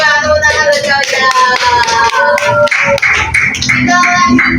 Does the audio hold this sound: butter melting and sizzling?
no